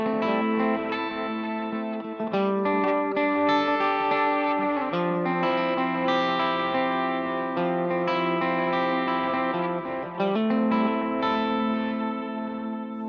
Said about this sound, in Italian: premendo il pedale seleziono un delay analogico